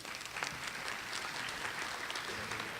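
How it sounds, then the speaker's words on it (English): Audience applause at a spring university honors recognition ceremony, a continuous even patter of many hands clapping at moderate volume, with no speech over it. "Round of applause for the professor."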